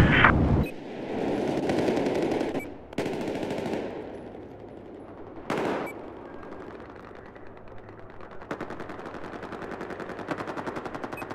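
Machine gun fire and other battle sounds from the video game Battlefield 4 break out in bursts, from a sharp close blast through rapid rattling volleys, with gaps of quieter rumble between them.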